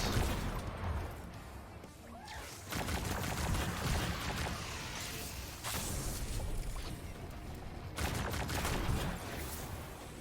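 Sustained auto rifle fire in Destiny 2, a loud, dense rattle of shots continuing through the whole stretch with short breaks between bursts and impact crashes mixed in.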